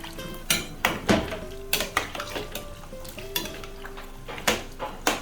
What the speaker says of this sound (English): What I'm going to do is stir this together.